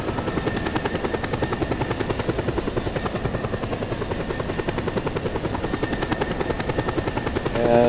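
Helicopter in the PC game Just Cause 2 multiplayer, a loud, continuous rotor chop with steady rapid pulsing and an engine buzz, sustained throughout without talk.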